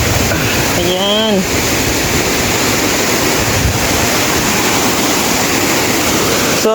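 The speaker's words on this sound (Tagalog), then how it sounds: "Ayan na yung falls guys." Steady, dense rushing roar of a waterfall close by, continuous throughout, with a brief voice heard early on.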